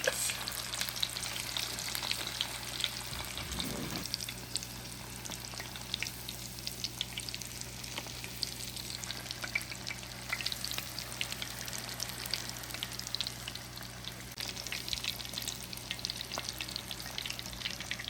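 Coconut shrimp fry in oil in a small pan, a steady close sizzle and crackle running throughout with no talking.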